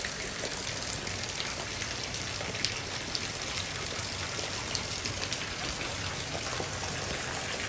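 A torrential downpour during a strong thunderstorm in Frisco, Texas roars as a dense, steady wash of rain, loud and continuous throughout with no talking.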